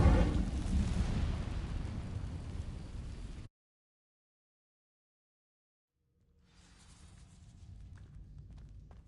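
A fiery Incendio spell bursts out in Hogwarts Legacy, setting dry vines alight with a loud rushing, crackling roar that cuts off abruptly. A low rumble swells back in after a stretch of silence.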